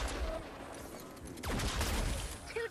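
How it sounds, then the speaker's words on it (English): A Vindertech Disintegrator Plasma Shotgun firing in Fortnite gameplay, dense booming blasts with an explosive, crackling character over continuous game noise, loud and close. "it's less of a shotgun and more of like an explosive weapon"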